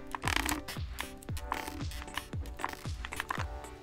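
Plastic case of a MagicRefiner MK31 65% mechanical keyboard being tapped, giving a series of about eight hollow, knocking taps at an uneven rhythm, close up and fairly quiet.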